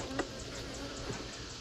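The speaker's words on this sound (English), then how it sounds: "We have a few bees in here." Honeybees buzzing inside an open hive during a nuc inspection: a continuous, close, steady hum of many wings with faint individual bees passing nearby, no talking.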